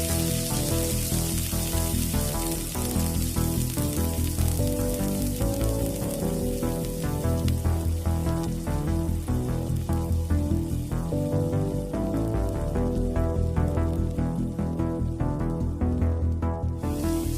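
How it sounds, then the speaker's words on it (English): Hot rendered wagyu fat spooned onto raw Australian A5 wagyu beef sizzles with a steady, crackling hiss, close and continuous, under a layer of background music. "Even though it was nice and sizzling"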